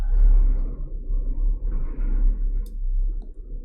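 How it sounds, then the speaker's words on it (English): A deep, continuous rumble of a large truck rolling past, heavy low-end that swells and fades slightly, with a faint click or two. "giant truck rolling by over there"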